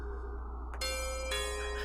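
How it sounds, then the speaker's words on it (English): A doorbell rings partway through, a sustained bright chime with a ringing tone that holds steady, then a second strike layered on top, heard alone over a low background hum. "A doorbell?"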